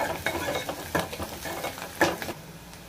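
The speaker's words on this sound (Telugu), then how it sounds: "వీటన్నిటిని బాగా ఫ్రై చేసుకోవాలి. ఇవన్నీ బాగా వేగిపోవాలన్నమాట." Spices being fried in a pan for rasam, heard as soft sizzling with repeated scraping stirring strokes, close but fairly quiet.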